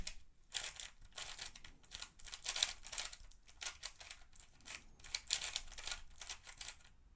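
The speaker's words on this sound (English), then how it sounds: "shuffle the cube" Rapid plastic clicking and clattering of a GoCube Bluetooth smart cube being twisted and shuffled, in quick irregular bursts with brief pauses, close up and fairly quiet.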